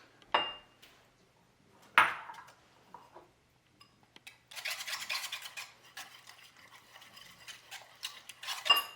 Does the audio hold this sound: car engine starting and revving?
no